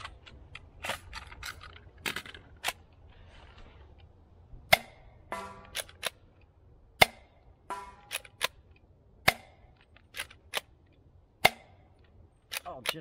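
Foam darts fired one at a time from a DZP Mk 2 blaster, a dozen or so sharp snapping shots spaced irregularly over quiet background, each with a brief rattling tail.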